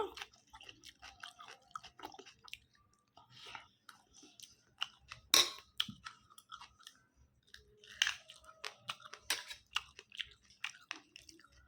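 People eat hot rice with fried fish up close: wet chewing, soft bites and crunches come in irregular bursts, with a few sharper clicks and quiet voices now and then.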